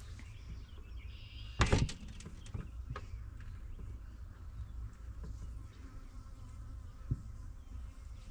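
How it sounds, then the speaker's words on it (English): A bee buzzes in a garden under steady outdoor background noise, with a sharp rustle or knock early on. "There's already a bee right here."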